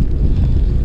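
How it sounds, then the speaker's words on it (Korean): Loud, blustery wind buffets the microphone aboard a small fishing boat at sea during webfoot octopus fishing off Muchangpo, a constant low roar with no pauses. "바람 소리 들리시나요?"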